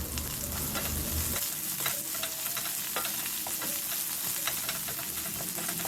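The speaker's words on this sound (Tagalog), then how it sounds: "Igisa ang bawang hanggang sa maging brown at kapag brown na ang bawang, isunod natin ang sibuyas." Garlic browning in hot oil, with onion to follow, in a pan for chicken liver: a dense, continuous sizzle and spatter, close and loud, after a brief low rumble at the start.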